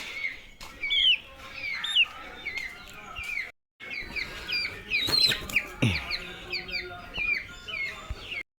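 Young native-breed country chickens cluck and chirp repeatedly nearby in a busy, overlapping chorus, with short pauses and a brief thump.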